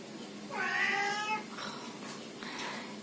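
A house cat gives one clear, drawn-out meow, close and fairly loud, followed by quieter faint sounds in an otherwise calm room.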